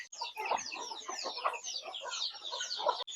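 Chickens in a rainy-season coop cluck and chatter continuously at close range, a dense overlapping run of short calls with no talking.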